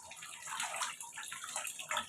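Tap water runs into a bathtub for a bath, making a continuous, close splashing rush at moderate volume, with no voices over it.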